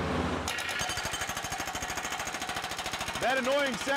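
A hydraulic hammer on an excavator pounds rock for a pool dig, a rapid, steady percussive rattle close by. Speech comes in briefly at the start and again near the end.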